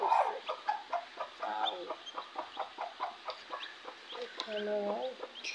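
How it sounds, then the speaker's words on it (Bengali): A brooding hen clucks in soft, repeated bursts beside her newly hatched chicks, close and fairly quiet, with faint peeping mixed in. "এই যে মুরগিটাকে কুচো বসাইছিলাম, তো আর বাচ্চা ফুটছে"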